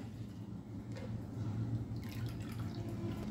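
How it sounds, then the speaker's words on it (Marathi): Water trickles and gurgles softly into buttermilk, about half a bowl poured in, a faint, steady pour with a few light drips. "मी याच्यामध्ये अर्धी वाटी पाणी टाकते"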